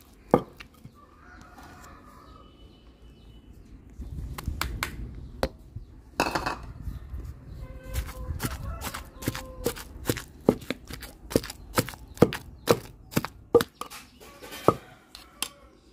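Gongura leaves being pounded and mashed in a stone mortar for a chutney, a quiet rustling stretch followed by a run of sharp, close knocks that grow steadily faster and more regular.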